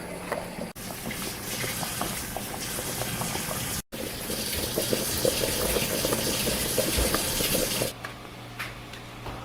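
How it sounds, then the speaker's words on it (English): Steady watery rushing and gushing as potatoes go into a pot of boiling water, with clinks and knocks, continuous and close. "And then I will put them in boiling water."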